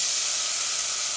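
Sweet corn and green capsicum stir-fry in a hot pan, giving off a loud, steady hiss and sizzle with no pauses and no voices.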